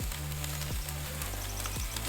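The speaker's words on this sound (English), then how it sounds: "Now that fat sizzling is perfect." Chicken quarter skin fat sizzles on a Weber kettle grill set up with a Slow N Sear, a dense, continuous crackle with low thumps recurring about every half second.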